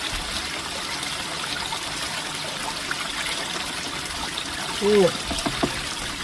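Water pours out of a hat beside a river in a steady, hissing trickle, and a person briefly exclaims near the end.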